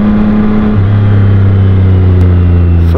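A Yamaha XSR900 motorcycle at full throttle on the Clark International Speedway track, its engine a loud, steady high-revving drone with a sharp pitch drop partway through as it shifts gear, dominating the recording alone.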